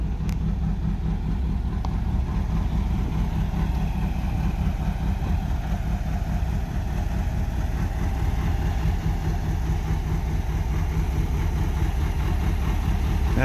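A 1972 Porsche 914 engine idling steadily nearby, a constant low rumble with a slightly uneven mechanical throb that holds level throughout.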